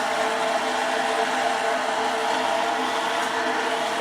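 A waste oil burner shop heater burning, giving a steady, loud, even roar that holds unchanged throughout with no talk over it.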